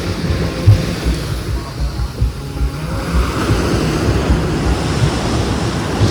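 Sea waves surge and crash along the shore at Ratneshwar, a continuous rumbling roar with gusty wind buffeting the microphone and swells rising and falling.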